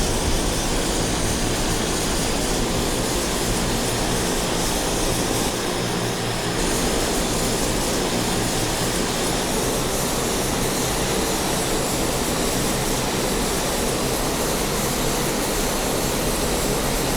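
Embraer A-29B turboprop on the runway after landing, its engine and airframe producing a loud, steady, broadband roar that continues unbroken as the aircraft slows, with no voices over it.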